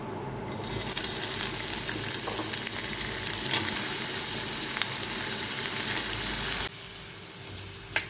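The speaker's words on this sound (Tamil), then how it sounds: "அதை அப்படியே போட்டு நல்லா வதக்கிட்டால் போதும்" Pirandai (adamant creeper) sautés in a pan with a continuous crackling sizzle that stays fairly even for most of the stretch before dropping off sharply near the end, followed by a single soft knock, with no talking.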